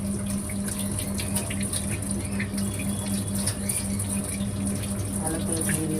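Tap water runs steadily into a basin as jackfruit is washed, a dense continuous gush with faint splashes and a low hum underneath.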